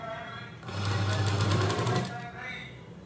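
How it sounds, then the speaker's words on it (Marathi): A sewing machine runs a double pass over a blouse seam, a close, steady mechanical hum that rises and holds for about a second before easing, with a voice talking over it. "परत त्याच्यावरती डबल पास घालून घ्यायची शिलाई."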